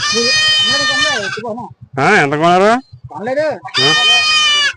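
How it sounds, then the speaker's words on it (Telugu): A young goat gives several loud, wavering bleats close by at a busy tribal Monday market, where people trade livestock and goods. People talk in between the bleats. "ఇక్కడ మేకపిల్ల ఉందండి"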